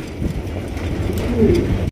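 Black racer pigeons at a pigeon sale coo in low, throaty murmurs close by, a steady soft rumble running through the whole stretch before cutting off abruptly at the end.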